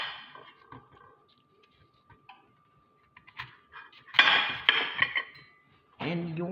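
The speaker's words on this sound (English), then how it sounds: "And I'm cutting these in 4 pieces." A knife cuts apples into quarters on a board for juicing, giving scattered clicks and knocks, with a brief steady tone and clattering kitchen sounds near the end.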